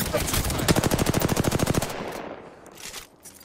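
Fast automatic weapon fire in Apex Legends, a steady rattling burst of close, loud shots lasting under two seconds, then fading into softer distant game noise.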